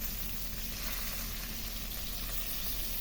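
Fish frying in hot oil in a pan, a dense, even sizzle and crackle that holds steady throughout, close and continuous with no voices.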